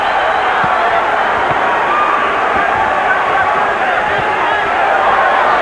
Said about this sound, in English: Pro Chavez crowd chanting already.